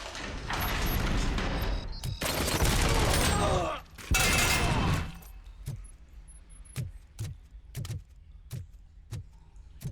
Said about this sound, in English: I just love that. Deflecting bullets.